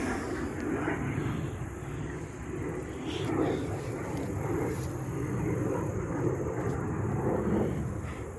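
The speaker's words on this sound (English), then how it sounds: "Another jet." A jet aircraft passes overhead, its broad, steady roar rumbling continuously for several seconds with gentle swells in loudness and no voices.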